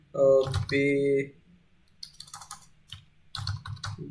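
Fingers tap out a title on a computer keyboard in bursts of quick clicks, close and clear, following a stretch of speech.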